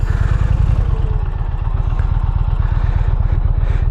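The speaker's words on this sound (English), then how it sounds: "I want y'all to hear this exhaust." Deep, rhythmic thumping of an Indian Challenger motorcycle with its stock exhaust running, a loud, close, steady low pulse throughout.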